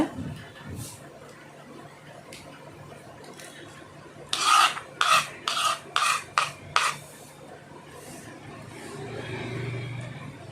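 A knife chops through a handful of drumstick (moringa) leaves on a board, a quick run of about six crisp, close strokes in the middle, with quiet background hum before and after.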